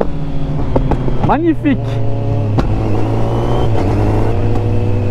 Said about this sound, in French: Oh il est incroyable le shifter, je sais pas si vous l'entendez là mais